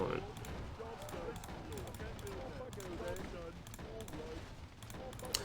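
A turret firing on units in a Warcraft 3 zombie defense arcade map, rapid repeated game gunfire crackling in a steady rhythm under a constant bed of other game sounds.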